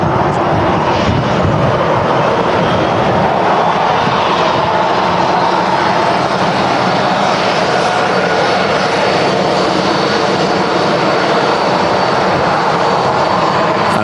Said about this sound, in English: You'll hear it when this Ryanair spools up and starts moving again.